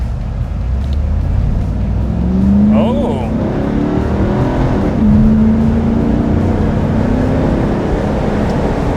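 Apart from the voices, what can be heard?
1995 Chevrolet Camaro Z28 convertible accelerating from a stop sign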